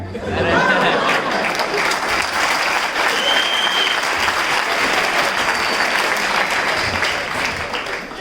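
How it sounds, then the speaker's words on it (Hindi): An audience at a success seminar bursts into sustained, loud applause that fills the room for several seconds, with a little laughter and chatter mixed in before it slowly tapers. "मैं जहां भी ये बात बताता हूँ लोग तालियां क्यों बजाते हैं"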